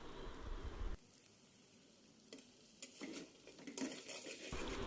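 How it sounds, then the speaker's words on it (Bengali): An egg scrambled in oil in a frying pan gives soft sizzling with intermittent spatula scrapes and clinks against the pan, close and quiet, with a brief louder burst at the start. "একটি প্যানে পরিমাণ মতো তেল দিয়ে একটি ডিম স্ক্রাম্বল করে নেব।"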